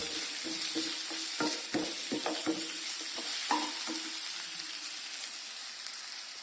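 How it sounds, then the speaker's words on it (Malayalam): Slit green chillies frying in chicken curry, an even sizzle under a quick run of spoon clacks and scrapes against the pan that thin out into steady hissing, close and with no talk. "അതിൻ്റെ കൂടെ തന്നെ രണ്ട് പച്ചമുളക് കീറിയത് തൊടുക"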